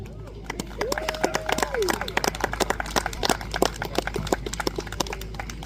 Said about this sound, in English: Put your hands together for Esther Domina.